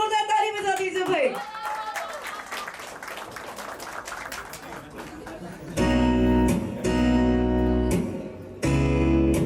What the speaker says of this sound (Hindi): तो चलिए इनके लिए एक बार जोरदार ताली बजा दीजिए भाई